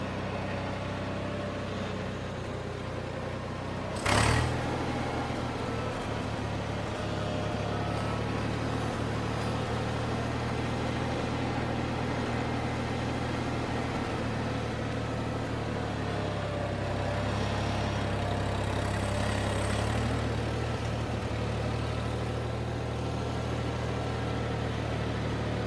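A tractor engine idles steadily after a carburetor repair, a low, even rumble throughout with a brief sharp knock near the start and faint mechanical noise on top.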